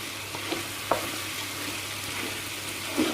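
Peas stirred into a paella frying in a pan give a steady close sizzle, broken by a few soft scraping clunks of the spoon.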